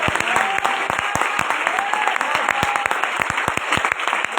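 A revival service congregation in Lahore claps together in sustained applause, dense sharp hand claps filling the room at steady loudness with no speech.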